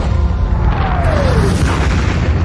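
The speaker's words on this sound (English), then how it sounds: "the USS Texas and Satterley and HMS Taliban all join in with a naval bombardment on Pointe du Hoc" Naval bombardment of the Pointe du Hoc cliffs by warships including USS Texas, a heavy continuous rumble of shelling with a falling whistle over deep booms.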